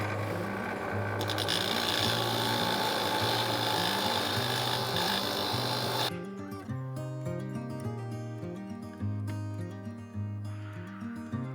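Trimming work with a power tool during installation of a ham radio base unit: a loud, steady machine drone for about six seconds, then quieter, uneven cutting and rubbing noises, with no talking.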